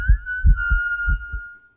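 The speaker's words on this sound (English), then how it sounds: "Only the sound of your own heartbeat could be heard." A thumping heartbeat effect for a horror story, with five soft, deep, evenly spaced beats under a thin sustained whistle-like tone that fades out.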